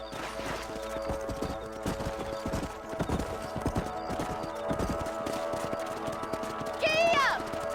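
Horse hooves galloping in Red Dead Redemption: a steady, close clip-clop of hooves on open ground on a ranch patrol, with a horse's whinny near the end.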